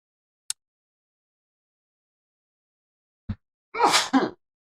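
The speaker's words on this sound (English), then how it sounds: "Uh-oh, I'm going to sneeze." A single sharp sneeze preceded by a brief click and a quick intake of breath, close and alone in a quiet room.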